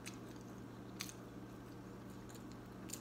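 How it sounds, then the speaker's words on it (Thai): Someone bites and chews grilled banana, with soft wet squishes and a few crisp bites standing out over a steady low background hum. No voices are heard. "ชิมกล้วยหน่อยกล้วยปิ้ง"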